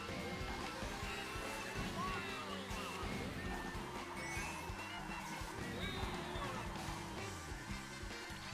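Karts drift in Mario Kart 8 on Nintendo Switch, with engine whine and repeated tire squeals over a busy backdrop of game music and effects, fairly quiet overall.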